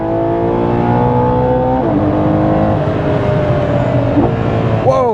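A Ferrari Purosangue with a 715 HP engine, heard from inside as it accelerates hard through the gears and then downshifts with sharp rev blips, loud and continuous throughout.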